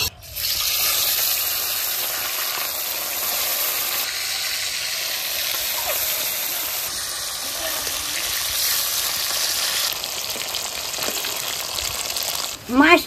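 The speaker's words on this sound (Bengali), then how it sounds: "মাছটা একটু ভালো করে ভাজো।" Pangas fish fries in hot oil in a wok, making a loud, continuous close sizzle that holds steady for the whole stretch before a brief clatter at the end.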